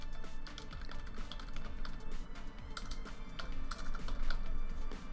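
Steady, rapid typing on a computer keyboard as a company name is entered into SketchUp LayOut, with dense overlapping key clicks at close range and no talking.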